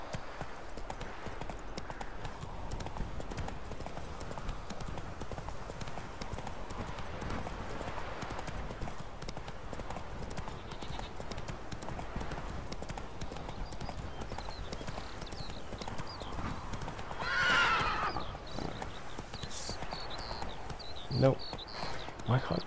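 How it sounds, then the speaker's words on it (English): Horse hooves clip-clop at a run in The Witcher 3, with a brief whinny, faint and continuous under someone talking throughout. "Where's my horse gone? Come on, Roach"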